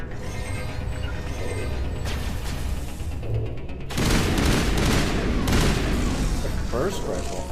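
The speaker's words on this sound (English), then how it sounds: "Burst rifle." A burst rifle fires in Mass Effect amid loud, dense game action, rapid mechanical shots that thicken and grow louder partway through, with talk over the top.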